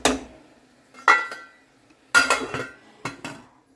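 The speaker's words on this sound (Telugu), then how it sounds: "మూత పెడదాం" Four sharp metallic clanks of a lid being set onto a cooking pot holding tomato rasam, each ringing briefly before fading, close and alone.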